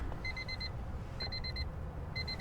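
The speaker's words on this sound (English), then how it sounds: "With that classic Honda beep." Bursts of rapid, high electronic beeps from a classic Honda car, four short pulses per burst, repeated three times at an even pace over a low background rumble.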